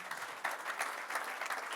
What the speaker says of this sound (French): Oui, on peut les applaudir évidemment.